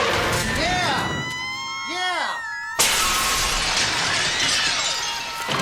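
A movie scene where a woman is smashed through the window of a bingo hall brings a sudden loud glass crash partway through, layered with sweeping music and voices.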